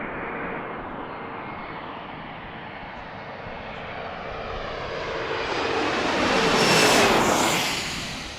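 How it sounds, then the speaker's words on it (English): Jet airliner landing at Washington DCA airport, a loud roaring engine rush that swells as the plane passes close overhead, then begins to fade. "Lots of jet blast."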